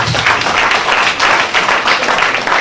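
A room full of people applauds together at a formal courtesy visit, a steady dense patter of hand claps lasting a few seconds, close and fairly loud with no speech over it.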